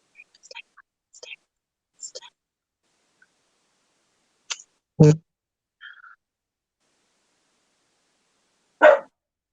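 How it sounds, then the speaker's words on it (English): A few sharp dog barks, a single one loud and close, scattered among faint whispery sounds and long quiet gaps. "quit barking"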